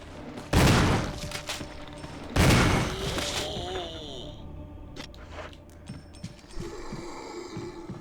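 Two loud, booming gunshots a couple of seconds apart in Resident Evil HD Remaster, each followed by a ringing tail and then clicks and mechanical clatter.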